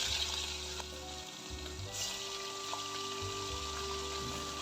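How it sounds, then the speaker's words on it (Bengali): Hilsa fish pieces sizzle in hot oil in a pan, a steady moderate crackle that continues alone with no talking. "তেলটা গরম হয়ে গেলে আমি তার মধ্যে একে একে ইলিশ মাছগুলো দিয়ে দেব"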